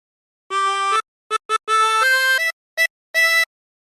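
A chromatic harmonica plays a Wellerman phrase, a few sustained reedy notes followed by short clipped ones, close and clear, with silent gaps between breaths and no talk.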